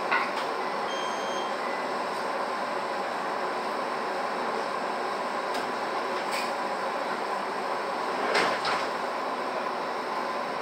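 Doors on an Aoimori Railway 701 series train slide shut, giving a few soft thumps and clunks over the steady hum of the cabin and the track.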